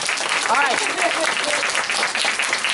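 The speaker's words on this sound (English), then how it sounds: "let's give them another round of applause" Applause rings out for a school puppet show of the tortoise and the hare, loud continuous clapping from an audience of children and adults, with a voice briefly speaking over it.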